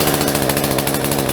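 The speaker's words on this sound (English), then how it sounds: "That's right, a chainsaw. See how the blade goes around just like a bandsaw?" A chainsaw runs steadily close by, a loud, continuous buzzing drone that holds an even pitch throughout with no pauses and no voices.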